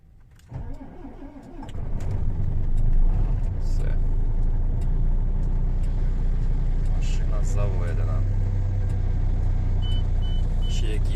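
A diesel truck engine cranks and catches after its glow plugs warm up, then settles into a loud, steady, rumbling idle that carries on to the end, with a voice talking over it.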